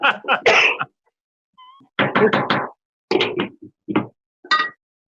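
A series of harsh coughing bursts, provoked by cooking steam, comes in clusters, close and fairly loud, separated by short silent pauses.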